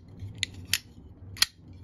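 A Something Obscene Company J-Cape pocket knife being opened and closed: three quiet, crisp metallic clicks, close up, spaced unevenly over a faint background hum, with no talk.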